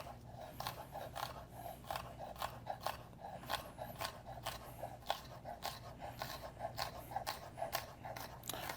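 A knife dices vegetables on a cutting board for salmon patties, giving a quiet, steady run of quick chopping taps with no voices.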